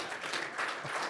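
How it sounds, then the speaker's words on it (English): Brief burst of applause from a fintech conference audience at a startup launchpad session, a steady, fairly faint wash of many hands clapping with no voices over it. "So round of applause, please."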